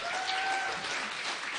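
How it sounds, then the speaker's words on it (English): An audience at a science slam claps for the presenters, a brief burst of dense, steady applause filling the room, with a faint tone or two heard beneath it. "Let's give them a round of applause."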